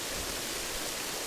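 Steady broadband rush of water from Issue Clough Waterfall on Black Hill, heard up close and continuous for a brief moment with no voices.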